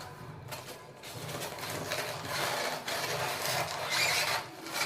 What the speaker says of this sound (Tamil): இப்போ இந்த தெர்மாக்கோல் எடுக்கணும்.